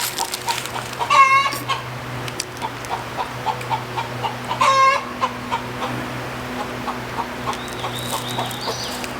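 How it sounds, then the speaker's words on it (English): A rowdy hen clucking and squawking after laying an egg, repeated loud cackling bursts a few seconds apart with softer clucks between, fairly close outdoors over a low steady hum. "we've got a rowdy chicken. I think she just laid an egg."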